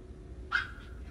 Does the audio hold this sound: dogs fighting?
yes